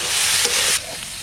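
Cauliflower and potato sauté in a hot pan as the base for a katla fish curry, a loud close sizzle and hiss that drops sharply to a quieter simmer partway through.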